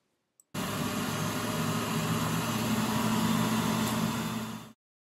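A laboratory microcentrifuge loaded with cheek cell tubes spins at top speed, producing a steady, loud, even whir that starts abruptly after a tiny click, holds for about four seconds, then cuts off quickly.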